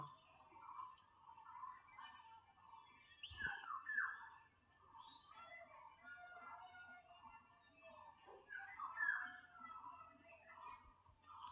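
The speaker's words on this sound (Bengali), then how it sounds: "ওই দেখেন চিলে কীভাবে ডাকতেছে" A kite calls faintly from a distance near its nest in a rural spot, giving a few thin, high whistling cries, a clearer one around the middle and another later, over quiet background.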